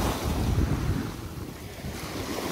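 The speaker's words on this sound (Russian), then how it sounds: "Морешко плещется." Calm Black Sea waves lapping at a Sochi beach, a steady soft wash of surf mixed with light wind buffeting the microphone, continuous and fairly close, with no voices.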